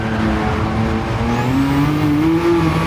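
A loud Lamborghini Countach QVX engine drones steadily, its pitch rising and falling as it downshifts to third, with a faint tire squeal over the continuous roar.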